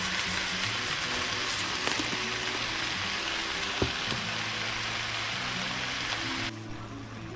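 Mushrooms and onions cooking down with seasoned ground beef in a pan for shepherd's pie give a steady, close, hissing sizzle that runs unbroken, with a faint stir clink partway through and a slight drop in level near the end.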